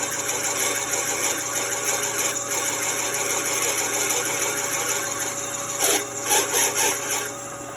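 A lathe turns a brass piece slowly in its chuck, giving a steady mechanical whir with a constant hum and a few scraping bursts near the end.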